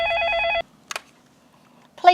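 Office telephone ring in a police administration office, one steady electronic ringing burst for about half a second, then brief quiet and a short voice.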